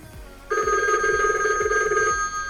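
A Disney Mickey Mouse limited edition animated toy telephone rings with a steady electronic bell tone lasting about a second and a half, loud and close, following a few soft clicks.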